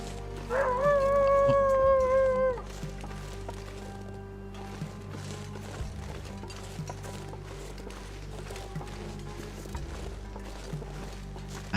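A wolf howls in a video game, one strong rising and wavering howl at the start, then game music and ambient sound continue underneath for the rest.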